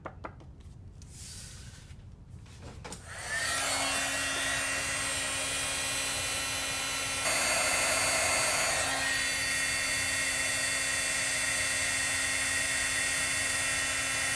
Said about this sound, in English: As my heat tool heats up